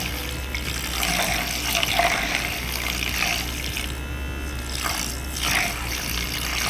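Water swirls in a makeup brush cleaning bowl as a white brush is washed, giving a steady, close rushing wash with brief surges and no talking.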